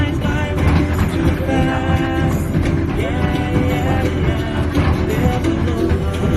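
A plantation tour train ride in Hawaii, with a continuous rumbling, clattering ride noise close around the listener, a faint horn-like tone and indistinct voices mixed in.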